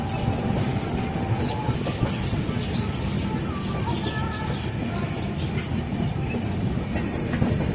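Jan Shatabdi Express train running on rails between Guwahati and Jorhat Town, heard from inside as a loud, continuous rumble with rhythmic wheel clatter and faint squeals throughout.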